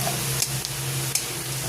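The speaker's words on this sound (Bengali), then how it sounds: "দেখো মশলাটা কষতে দিয়ে দিয়েছি।" Spice paste frying in oil for a koi fish curry, a close, steady sizzle with a few brief scraping clicks of stirring over a low background hum.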